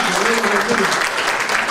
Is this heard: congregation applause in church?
yes